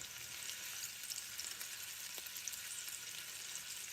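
Meatballs browning in a frying pan, a soft, steady sizzle with faint crackles and no voices.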